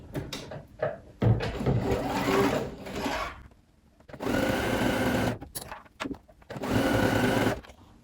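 A sewing machine zigzag-stitches leggings fabric in three bursts of rapid mechanical stitching, with short pauses between them, close and fairly loud, no talking.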